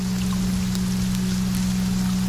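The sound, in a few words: gentle rain pitter-patter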